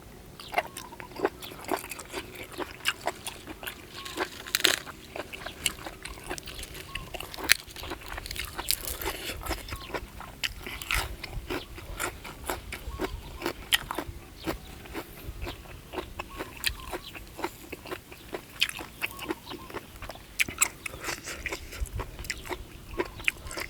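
Close, crisp crunching and chewing continues steadily for over twenty seconds as someone eats bitter gourd with papaya salad.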